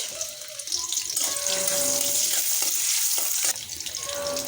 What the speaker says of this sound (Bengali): চুলোতে বসিয়েছি কড়াই, কড়াইয়ের মধ্যে দিয়ে দিচ্ছি তেল, দিয়ে দিচ্ছি পেঁয়াজ